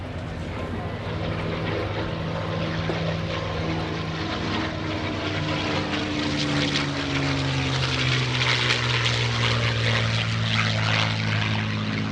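A P-51D Mustang's piston engine drones loudly throughout an airshow flyby, a continuous propeller roar that shifts in pitch as the fighter passes, with faint speech beneath it.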